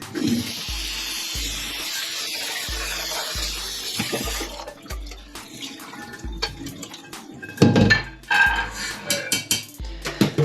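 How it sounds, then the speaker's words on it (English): Overnight-soaked beans rinsed under a running kitchen tap, a steady rush of water for several seconds followed by softer splashing and occasional clinks of a pot or strainer in the sink. "I'm just going to give them a quick rinse"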